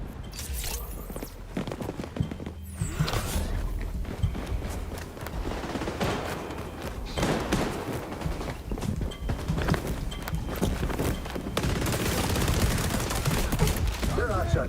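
Gunfire in a video game crackles almost without pause, dense overlapping bursts of rapid shots and impacts, loud and close, with a brief lull near the start before the barrage resumes.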